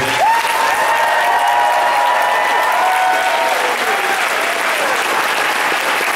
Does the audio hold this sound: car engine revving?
no